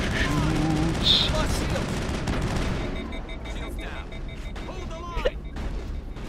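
Rapid gunfire from the Mass Effect video game, loud bursts crowding the first few seconds with a raised voice over them, then thinning to scattered shots and electronic effects.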